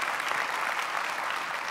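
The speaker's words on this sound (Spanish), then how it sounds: "si alguien va a aplaudir, hágalo con más ganas, iglesia" A church congregation applauds steadily, a full continuous wash of many hands clapping in a large room without pause.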